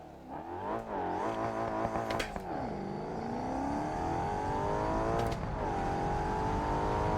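A car engine of about 600 hp revs hard on launch, a loud rising roar with gear-change dips and climbing pitch sustained over several seconds, close and alone.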